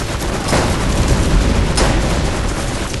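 Rapid SMG gunfire in the video game Borderlands, a dense, loud, continuous burst of shots filling the whole stretch with no talking.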